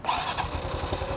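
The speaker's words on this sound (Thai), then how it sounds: "ลองให้คุณได้ฟังเสียงสตาร์ทของเขาหน่อย" A brief burst of a new 2026 Honda Wave 110 motorcycle engine cranking and catching, rough and close.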